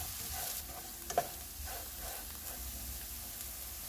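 Anardana (pomegranate seed) powder, chaat masala and other spices sizzle and crackle in a hot pan, with a couple of sharp scraping stirs partway through and a steady frying hiss underneath.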